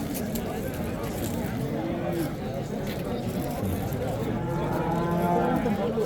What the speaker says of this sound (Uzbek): Ana sigir